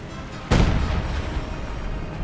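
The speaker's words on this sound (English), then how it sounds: "direct hit from the howitzer" A single heavy howitzer shot booms out in the Company of Heroes 2 battle, a sudden loud blast whose deep rumble dies away over about a second and a half.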